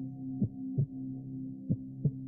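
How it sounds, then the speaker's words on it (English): Recorded heartbeat plays during a chakra meditation, four soft low thumps in a slow uneven rhythm over a quiet steady hum. "Can you all hear the sound of the heartbeat?"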